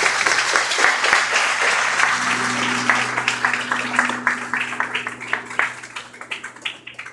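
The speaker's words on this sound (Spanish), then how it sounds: "Denle un fuerte aplauso al Señor." A church congregation at a women's retreat applauds the Lord, loud dense clapping that gradually thins into scattered individual claps near the end.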